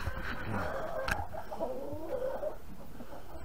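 Mixed hens on a farm clucking and murmuring in short, overlapping calls, fairly close with soft rustling in the background and no talking.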